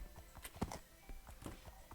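Hooves clip-clopping in a few quick steps, with a brief louder thud in the middle, fairly close against a quiet background, from a horse in Minecraft.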